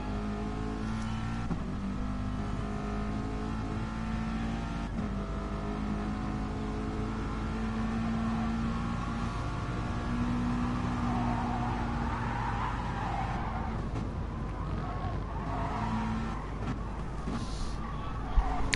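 A field of race cars in a Gran Turismo-style racing game pulls away at a race start on the European Sainte Croix circuit, engines droning steadily and rising in pitch as they accelerate, moderately loud throughout.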